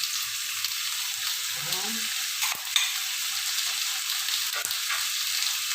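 Milkfish sautéing in a pan for sinigang na bangus, a steady bright sizzle with a couple of stirring scrapes, and one brief spoken word partway through.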